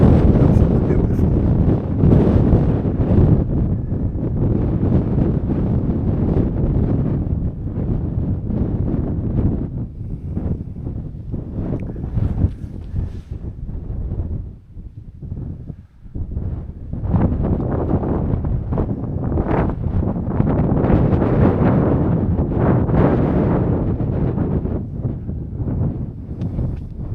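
Strong wind roars across open Dark Peak moorland, buffeting the microphone in loud continuous gusts with a brief lull midway, under sunset skies.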